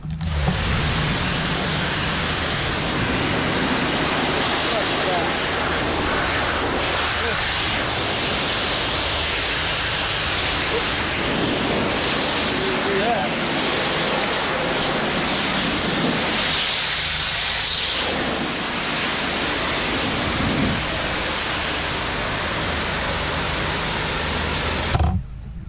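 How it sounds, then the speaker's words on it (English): Water spray rinses a metal part during rust removal, a steady loud broadband hiss and rush that continues unbroken for over twenty seconds with slight swells. "Little live rinse action for you."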